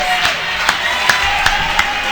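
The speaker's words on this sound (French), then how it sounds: "On nous applaudit le Seigneur pour ça" A church congregation claps along in a steady rhythm of sharp beats, with crowd voices and cheering beneath.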